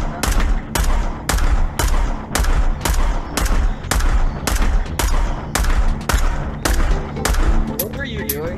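Gunfire in the VR shooter game Onward, with steady, evenly spaced loud bursts of automatic fire repeating about every half second, close and dominant, and a voice coming in near the end.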